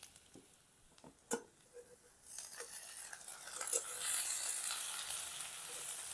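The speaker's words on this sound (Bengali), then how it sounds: "এবারের মধ্যে দিয়ে দেবো তেল পটকাটা" Rohu fish fat goes into a pan of oil and fried onion: a few utensil clicks and scrapes come first, then a loud sizzle swells and holds steady.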